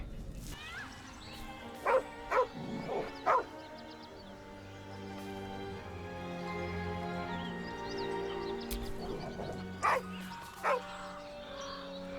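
A dog in the video game Baldur's Gate 3 gives several short barks and yips, with whimpering tones in between, over quiet layered ambient game music.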